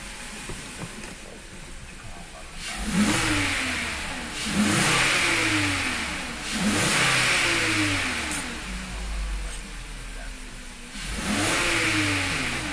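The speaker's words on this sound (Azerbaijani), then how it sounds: "avtomobilə qaz verək, görək." A car engine recovering from an ignition coil fault revs in repeated surges as the accelerator is pressed, with four loud, rising bursts that fall back to idle between them, close and without talk.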